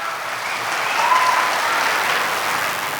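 A crowd applauds loudly at a solo poetry session, with sustained, dense clapping that holds steady and strong throughout, joined by a brief whistle.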